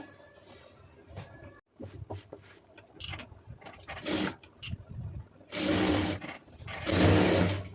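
A sewing machine stitching the lining of a blouse with a small stitch setting, running in short bursts of whirring that grow longer and louder toward the end, close by.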